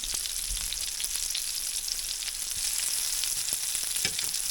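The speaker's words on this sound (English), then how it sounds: "Break it into little pieces and let it kind of brown in that butter for just a couple of minutes." Broken noodles brown in butter in a pan, giving a steady close sizzle and crackle with occasional stirring scrapes.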